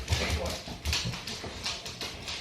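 A dog dashes about close by, with soft thumping paw steps and a few faint whimpers and breaths under steady room noise.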